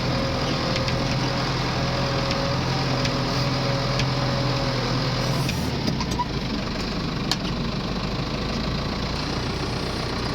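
A New Holland TD85D tractor engine runs steadily while working a field, a loud continuous mid-pitched drone with a low rumble and a slight shift in tone partway through, with no talk over it.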